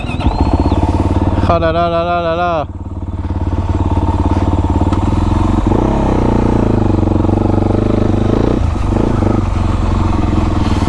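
A prototype quad fitted with a Yamaha 450 YZF motorcycle engine runs loud and close, with a rough, clattering idle and a quick rising rev near the start, then a steady running drone and a couple of dips in throttle. A voice exclaims briefly over it.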